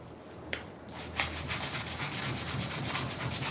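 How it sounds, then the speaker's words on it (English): Hand sanding with sandpaper on a part from a Lasko Ultra Force box fan, giving fairly quiet, rapid back-and-forth rubbing strokes in a continuous rhythm after a brief softer start. "The reason why this sandpaper has holes is this was on my sander."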